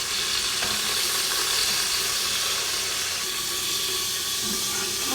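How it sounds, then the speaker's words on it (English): Lamb shanks browning in hot oil in a stew pot, giving a steady, dense sizzle and hiss that holds loud and even throughout with no talking. "you just want to seal in the flavor of the meat. So nice and brown like that."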